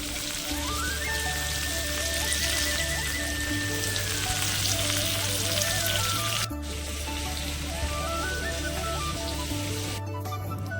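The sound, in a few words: fish fries being deep-fried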